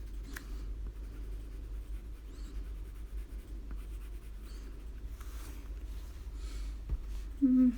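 Colored pencil scratching across paper while a mermaid portrait is colored, a faint close series of dry strokes over low steady room hum, ending with a brief louder tone.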